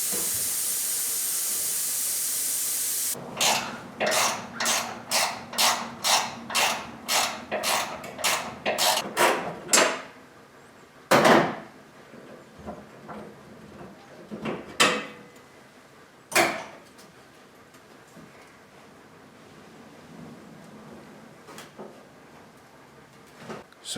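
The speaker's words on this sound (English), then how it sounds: "we'll ratchet strap that door down and move it away from the car" A ratchet strap clicks in a quick rhythmic series of sharp ratcheting pulls while securing a door removed from a 1972 Camaro in a garage, followed by a few scattered louder clunks and knocks against quiet background hiss.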